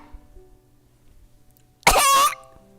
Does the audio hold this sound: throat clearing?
yes